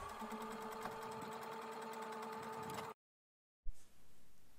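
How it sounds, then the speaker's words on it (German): A sewing machine stitches a seam on a drawstring bag, running steadily and fast for about three seconds before stopping, then a brief knock and quiet handling noise follow. "Auf der Linie nähen und Anfang und Ende der Naht werden gut verriegelt."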